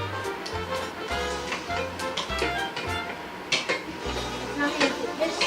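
Oil heating and frying in a pan while cooking chicken adobo, with metal utensils clattering and scraping against the pan, steady sizzle and repeated knocks close by, busy kitchen clatter throughout.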